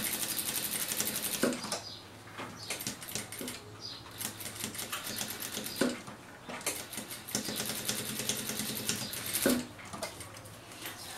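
Sewing machine stitching fabric for a small teddy bear coin purse, a close, steady whir of rapid needle strokes that repeats in several runs separated by short pauses.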